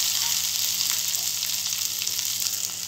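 Ivy gourd sautéing in a pan for chutney gives a continuous, close, even sizzle with faint stirring, and no one speaks.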